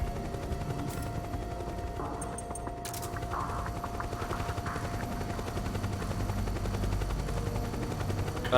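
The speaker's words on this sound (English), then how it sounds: "A helicopter." A helicopter in the Metal Gear video game thrums steadily and loudly throughout as a continuous rotor drone, with a few sharper bursts layered over it and no talking.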